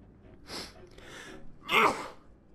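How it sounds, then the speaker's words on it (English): A person's sneeze, preceded by a sharp inhaled gasp and followed by the explosive burst itself, close to the microphone in an otherwise quiet room. "Sorry, I'm having to sneeze."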